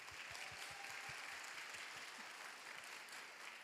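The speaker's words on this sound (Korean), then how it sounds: "일어나서 인사할 때 우리 여러분 엄청 큰 박수로 환영해 주시기 바랍니다" A church congregation gives steady, dense applause at a youth worship service to welcome a member back from military service, filling the whole moment without a break.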